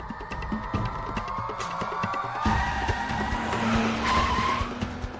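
A car driven fast roars along with sustained engine drone, then tires screech and skid loudly in a long squealing slide midway through.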